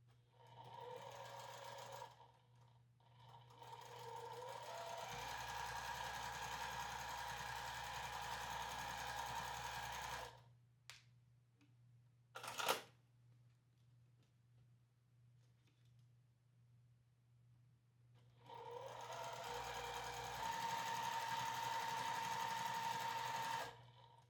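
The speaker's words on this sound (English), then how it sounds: "So I'm going to get these sewn a 1/4 inch seam along each side and press them." A sewing machine runs quarter-inch seams joining quilt rows in long continuous runs, loud and close, with a quiet stretch between them.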